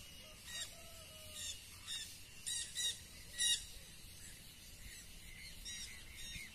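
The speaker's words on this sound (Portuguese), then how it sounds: "Os galos tão que cantam aí." Birds squawking and calling across a rural valley in Franca, São Paulo, with fowl and rooster-like cries rising in several short bursts over a steady, moderately distant outdoor background.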